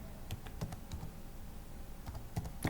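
Typing on a computer keyboard while entering text into a PowerPoint slide: a close, irregular run of light key clicks with short pauses, no voices.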